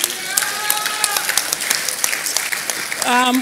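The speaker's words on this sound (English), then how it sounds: "I think they deserve a better round of applause." Scattered audience applause for elderly performers at an event on ageing in Africa, with distinct individual claps and voices calling out over it, a louder voice rising near the end.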